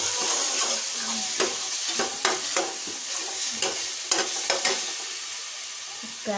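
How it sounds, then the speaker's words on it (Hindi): Onions frying in a pan make a steady sizzle and hiss, with intermittent scraping stirs from a spoon, close and moderately loud with no talk. "देखिए ये इधर भी प्याज भून रही"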